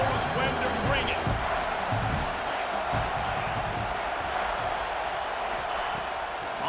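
A stadium crowd at a football game roars steadily as a drive reaches the red zone, a dense continuous wash of cheering that holds at an even level throughout, with a voice speaking over it.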